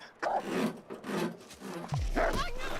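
A hostile dog in a video game growls and barks in short, rough bursts, close and fairly loud, with low rumbling between them.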